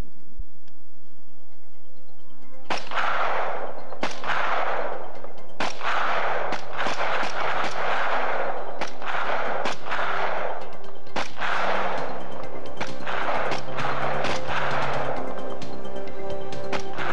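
Five separate shots from a Canadian Forces C7 rifle at a training range, each a sharp crack with a decaying tail, fired at an unhurried, slightly irregular pace with no talking.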